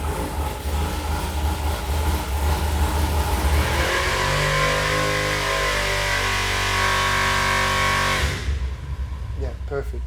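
An EFI car engine revs hard at wide open throttle, loud and close, its pitch climbing steadily before the throttle is released and it drops back toward idle.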